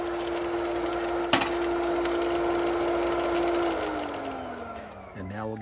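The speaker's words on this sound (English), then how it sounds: "Let's shut the pump off." A swimming pool pump hums with a steady tone and a single sharp click, then winds down, its pitch sliding lower as the motor stops, with a faint voice in the background.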